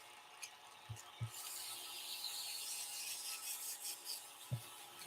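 Cloth-backed Hermes abrasive rubs against a spinning wooden pen blank on a lathe, a faint, steady hissing rasp with a few soft knocks, no talk.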